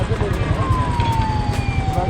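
A wailing ambulance siren sweeps slowly in pitch over a rumbling engine idle, loud and close, with traffic noise around it on a winter road from Jammu to Srinagar.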